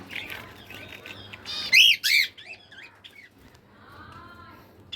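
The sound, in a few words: pet birds in a cage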